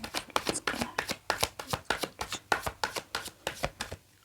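Tarot cards are shuffled by hand in a quick, even run of about twenty crisp riffling slaps, close and fairly quiet, with no one speaking.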